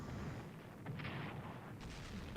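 Naval guns bombarding enemy troops in a city in the WWII strategy game Strategic Command, with a couple of muffled, fairly quiet booming bursts over a low rumbling background.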